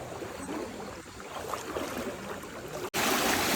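Fast, rushing stream water swollen by the first monsoon rain at night, a steady broadband wash of flowing water close by that continues without pause, briefly cut off once near the end before surging back.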